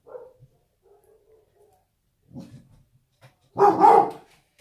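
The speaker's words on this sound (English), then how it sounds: "Not quite sure what the dogs are barking at outside." Dogs bark in short bursts, faint and scattered at first, then a louder cluster of barks near the end, with quiet gaps between.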